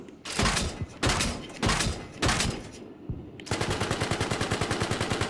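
A vehicle in the video game Arma fires high-explosive tracer rounds: four heavy, evenly spaced booming bursts, then a fast rapid-fire rattle of machine-gun shots, loud and close.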